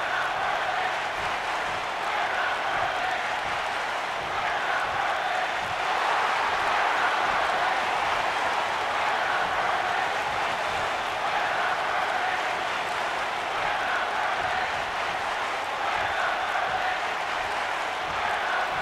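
Wrestling arena crowd in WWE 2K19 during a SmackDown Live show, a constant dense roar of cheering and murmuring that holds steady throughout with no clear voices.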